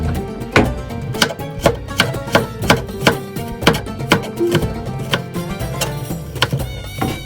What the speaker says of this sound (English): Remove the skin with knife and shred it.